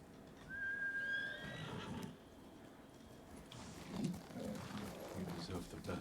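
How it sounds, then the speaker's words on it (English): A horse whinnies in the video game Ghost of Tsushima, a rising, wavering neigh up front, followed by faint hoof and movement sounds beneath quiet game ambience. "Oh shoot, I need a freaking horse."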